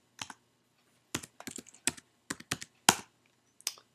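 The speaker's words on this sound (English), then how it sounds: "Okay, we're gonna type." Keys clacking on a computer keyboard while commands are entered in a Mac terminal, in irregular clusters of crisp taps with short pauses between bursts, close and fairly quiet with no talking.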